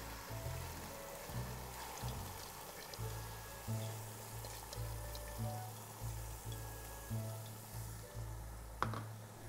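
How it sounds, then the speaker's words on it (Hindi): Two cups of soaked urad dal (daal mash) tip into a pot for a dhaba-style fried dal, giving a steady wet, trickling rush with soft sizzle-like texture over a low kitchen hum, with no talking. "इस पॉइंट पर मैंने दाल डालनी है। ये 2 कप भीगी हुई दाल माश है"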